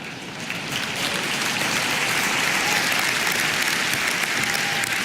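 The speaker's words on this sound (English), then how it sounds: "the reason you laughed and clapped" Steady, dense applause from a large business forum audience in Finland, even and sustained with no pauses.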